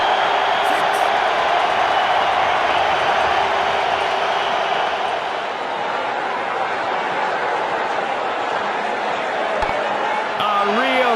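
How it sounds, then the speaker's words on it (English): A packed stadium crowd roars steadily at a cricket match in the WCC2 video game, a dense, loud, unbroken wall of cheering that holds for the whole stretch. "The crowd has gone mad."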